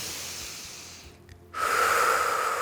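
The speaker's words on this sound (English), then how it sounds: "Take a few cycles of breath." Steady breathing during a pregnancy yoga session, with soft airy breaths, a brief quiet pause, then a louder, sustained exhale close to the microphone.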